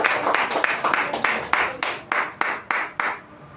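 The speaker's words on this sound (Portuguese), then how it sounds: "Aplauda, Senhor, em nome de Jesus," A church congregation applauding, a close burst of clapping in rhythmic waves that thins out and stops near the end, with no talk.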